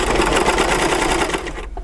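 An overlock sewing machine stitches a fabric sample at steady high speed, a loud continuous whirring buzz that cuts off abruptly near the end.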